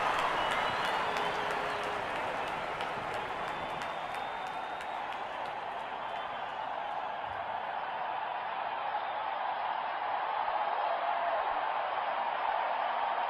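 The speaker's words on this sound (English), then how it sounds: "Crowd going mad here." An IPL cricket stadium crowd in Kolkata roars and applauds after a six, a loud, sustained wash of cheering and clapping that carries on throughout.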